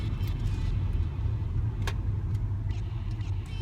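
A Mk3 Jetta VR6 with a manual gearbox drives along, its engine a steady low rumble heard from inside the car with no clear shift or rev change.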